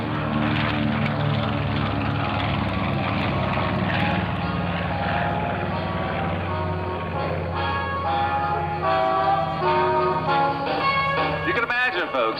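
B-25 bomber Panchito at an airshow, its R2600 radial engines wound up on the takeoff roll, a continuous loud, throbbing propeller drone with shifting engine tones that lasts throughout.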